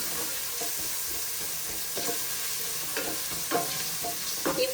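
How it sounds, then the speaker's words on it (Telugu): Ginger garlic paste frying with onions in a pan for paneer pulao, a steady close sizzle broken by the scrape and clatter of stirring that grows busier toward the end. "ఇప్పుడు ఇందులో అల్లం వెల్లుల్లి పేస్ట్ వేసుకోవాలి అల్లం వెల్లుల్లి పేస్ట్ కొద్దిగా గోలనివ్వాలి"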